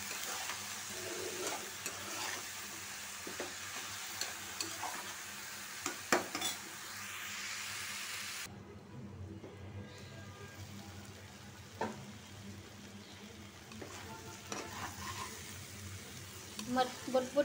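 Bhotbhoti vegetable frying in a pan with turmeric and coriander powder, a low steady sizzle with scattered clinks of a spoon on the pan and occasional stirring scrapes, close by, the hiss dropping partway through.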